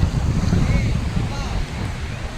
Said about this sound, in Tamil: தென்னை மரங்கள், காற்று பலமாக வீசிட்டுருக்கு.